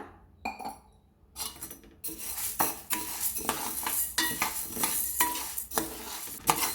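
Toor dal roasts dry in a pan while a spoon stirs and scrapes it, giving irregular clinks and rasping strokes over a light sizzle that grows busier after a quiet start.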